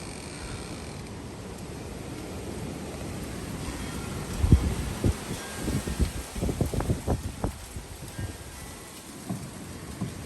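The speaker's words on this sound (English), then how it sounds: "it's still breezy, but it's not as bad as it was" Gusty wind outside a tiny home in a Texas windstorm with winds up to 60 mph, a steady low rush with irregular buffeting thumps and rustles building in the middle, then easing.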